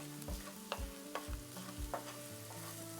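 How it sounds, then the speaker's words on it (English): Onion and garlic brown in a frying pan where bits of fond cling to the bottom, a soft sizzle punctuated by repeated scraping and tapping stirs at a rough regular rhythm, fairly quiet and without speech. "This is onion and garlic. We're just going to let this brown up a little bit."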